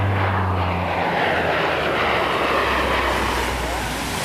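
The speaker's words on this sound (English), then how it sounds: "It's the maintenance airplane for the Blue Angels." A C-130 "Fat Albert" support aircraft flies past at a Blue Angels air show, a loud, steady broadband propeller-engine roar filling the whole clip with a low drone throughout.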